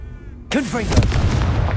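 A Confringo explosive spell in Hogwarts Legacy fires with a sudden sharp blast and a whooshing magical sweep, then a rumbling explosion that keeps booming to the end.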